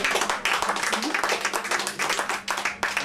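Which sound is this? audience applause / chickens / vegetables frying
audience applause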